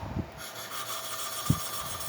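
An engine valve from a Suzuki Katana/Samurai being lapped against its seat to smooth it, giving a continuous soft gritty rubbing with a couple of louder knocks, close up and without speech.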